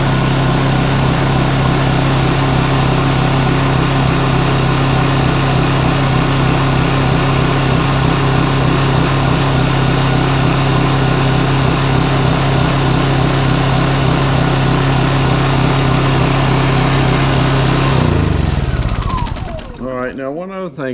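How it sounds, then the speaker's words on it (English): A Honda 2200 inverter generator runs loud and steady up close, a constant engine drone with a strong low hum, until it cuts off near the end and winds down into quiet. "This is a quiet, probably the quietest generator you can get."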